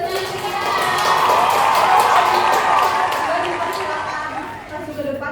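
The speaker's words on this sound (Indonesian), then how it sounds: "Tepuk tangan buat Bapak." A classroom full of people claps together during a teaching session, a warm wash of applause that swells and then fades, with some voices mixed in.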